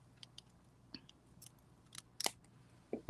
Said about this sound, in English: I'm going to come in with my cutter and trim off